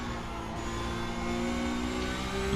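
A Porsche Cup race car in iRacing holds a steady, loud engine drone at high revs, a continuous tonal roar with no break and no talk over it.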